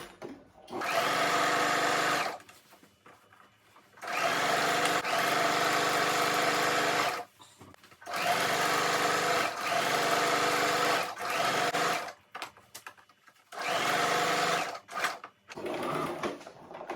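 Sewing machine stitching pleats in a satin-lined rose turban, running in four long steady buzzing runs of a few seconds each with short quiet pauses between, close and fairly loud.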